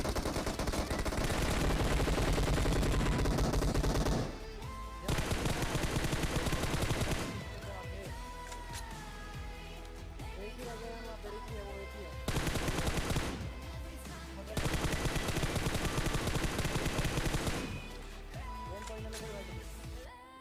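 Bursts of automatic gunfire from a PUBG Mobile match come in several long blocks separated by short pauses, loud and dense, mixed with other game sounds.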